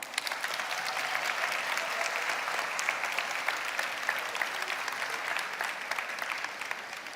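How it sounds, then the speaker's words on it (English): Sustained audience applause at a women-in-tech summit conference hall, a dense, steady wash of many hands clapping that holds at an even level throughout without pause. "So let's give moms an applause."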